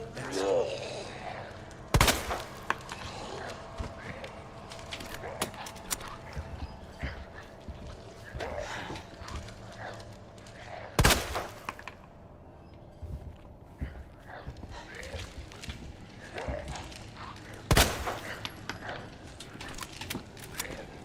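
Gunfire in the Resident Evil 2 Remake game, with a few sharp loud shots spaced several seconds apart over a busy background of footsteps and game noise, with someone talking in between.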